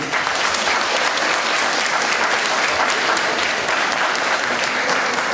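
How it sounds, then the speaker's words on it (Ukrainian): An audience at a Ukrainian school's second-anniversary celebration in Caserta, Italy, gives steady, dense applause that holds at an even level throughout, with no talk over it. "Всі щирі гарні оплески"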